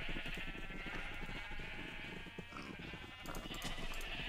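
Sheep bleating in Minecraft, several blocky game-sheep calling in short repeated bleats over a steady game background, fairly loud and continuous with no talk.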